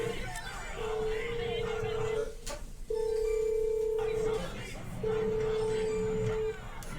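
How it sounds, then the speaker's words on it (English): A phone rings in repeated electronic tones, each lasting about a second and a half, over a noisy background of murmuring voices. "The phone ringing?"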